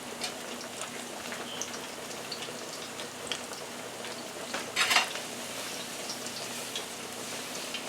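Plantains fry in a pan with a soft, steady sizzle and crackle, plus a brief louder spatter partway through, and no talking.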